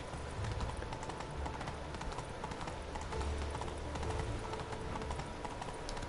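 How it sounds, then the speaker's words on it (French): Roach, the horse in The Witcher 3, gallops in a steady, continuous hoofbeat rhythm at moderate distance. The clip-clop runs unbroken throughout, with no voices over it. "je vais appeler mon cheval, Ablette"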